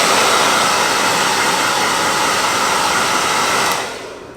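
A loud, steady hands-free pet hair dryer, a Petietec Handily2, blows with a constant whooshing whine, then switches off and fades near the end.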